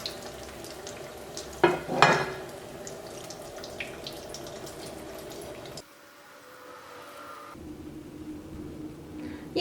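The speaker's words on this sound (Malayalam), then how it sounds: "ഇതേപോലെ ബാക്കിയുള്ളതും ഇങ്ങനെ തന്നെ വറുത്തെടുക്കുക." Chicken bread rolls deep-fry in hot oil with a steady, close sizzle, broken by a few louder splashy bursts, before the sound drops away near the end.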